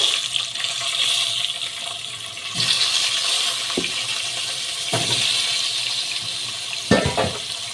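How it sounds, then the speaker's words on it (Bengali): Potatoes tossed into hot oil in a pan for a Bengali egg curry give off a steady, loud hiss and crackle, with a few sharper clatters of utensils breaking through now and then. "আমি আলুগুলোকে ছেড়ে দিয়েছি আলুগুলোকে এবার একটু লাল করে ভেজে নেব"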